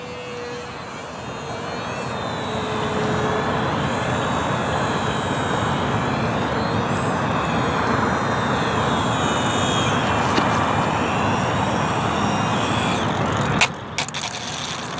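A scratch-built Avro 534 biplane model flies overhead with a steady, droning small-engine buzz that shifts in pitch as it passes and comes in to land, ending with a brief clatter as it touches down.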